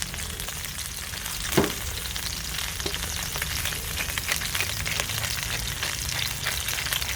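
Salmon fillets fry skin side down in a pan, a close, steady crackling sizzle with one brief sharp knock partway through.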